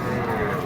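A bull at a rural cattle haat in Sonamukhi lets out a short, loud, close moo, a low droning bellow over faint market background.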